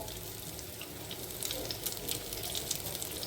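Methi gota bhajiya fritters fry in hot oil on full flame, giving a steady, close sizzle and bubbling hiss that continues alone without talk.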